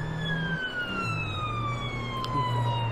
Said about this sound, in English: Hit the sirens!